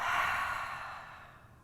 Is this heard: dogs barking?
no